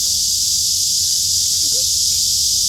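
A large cicada (말매미) held in the hand gives a loud, steady buzz. It sounds like a continuous high hiss that lasts the whole time, with faint handling noise beneath it.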